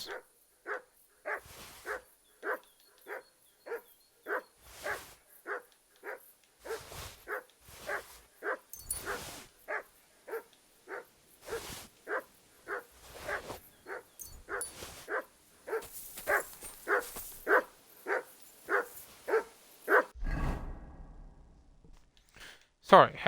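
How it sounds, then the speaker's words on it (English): Repeated, evenly paced dog barking in the medieval role-playing game Kingdom Come Deliverance II continues for a long stretch, with someone talking over parts of it before a heavy low thud near the end. "had to get that barking to stop"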